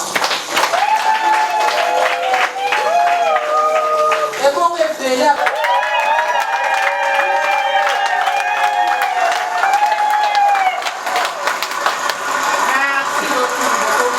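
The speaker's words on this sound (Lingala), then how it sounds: "S'il peut se lever, on va l'applaudir." An audience at a conference-debate applauds a guest who stands up, a loud, steady wash of clapping lasting throughout, with voices and a brief spoken remark over it.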